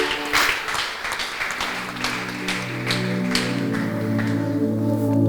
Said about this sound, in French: Tu peux acclamer le Seigneur pour sa présence